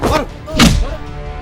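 Two heavy body thuds from a beating in a fight scene of the Hindi film Manjhi The Bharat Ratna, close and loud, with grunting, voice-like sounds mixed in.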